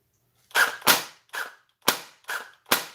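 Airsoft M4 rifle firing close by in rapid bursts, six sharp cracks in uneven groups over a few seconds, loud and alone with no talk.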